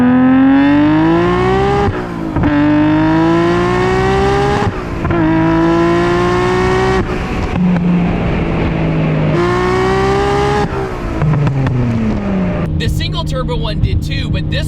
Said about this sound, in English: The way this thing screams, like, this is the RB scream I've always been looking for.